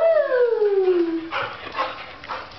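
A dog gives a single drawn-out howl that slides downward in pitch, followed by a few soft yips and rustling close by.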